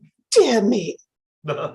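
A single sneeze-like burst from a performer during a stage reading, followed by a short spoken exclamation.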